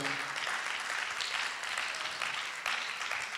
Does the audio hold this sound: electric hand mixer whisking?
no